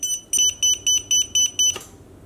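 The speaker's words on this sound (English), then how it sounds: "if you just get close to the contacts here, it beeps" A sharp electronic voltage tester beeper chirps about six times in a quick, even rhythm near live wiring contacts, then a brief click and silence.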